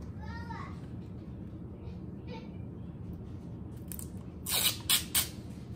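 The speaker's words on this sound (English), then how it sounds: "Okay, let's tape the back." Adhesive tape pulled and pressed onto the back of a homemade cardboard shirt folding board, heard as a few loud rasping strips near the end after a quiet stretch with faint background noise and brief voice sounds.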